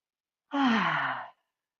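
One long exhaled breath, close and fairly soft, rising quickly and fading out over under a second, framed by silence before and after.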